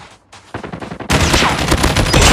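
Rapid automatic bursts from the Type 25 rifle in Call of Duty Mobile, starting as sparse shots and then swelling into a loud, continuous fusillade.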